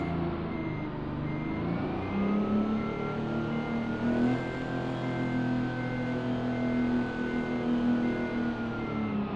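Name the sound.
truck engine reversing in American Truck Simulator video game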